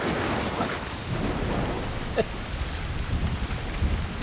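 Steady rain pours in a stormy scene in the video game Assassin's Creed Shadows, set in Japan, with thunder rumbling low underneath and a few sharper crackles, with no talking.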